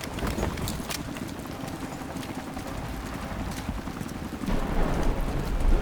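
Rain in Call of Duty Modern Warfare 3: a dense, steady patter of drops on surfaces with low rumbling beneath, swelling louder toward the end, and no voices.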